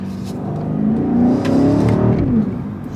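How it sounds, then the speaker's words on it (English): A 2025 BMW X7 M60 accelerating hard in Sport Plus with its exhaust opening up: a loud, close engine note that swells and climbs in pitch through a single pull, with a throaty roar and no talking. "I'm going to do one little pull for you guys in Sport Plus so you can hear the exhaust open up"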